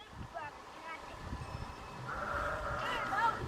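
Ewes on a farm bleating in the open, several wavering calls rising from a fair distance, with someone talking quietly and light wind around them.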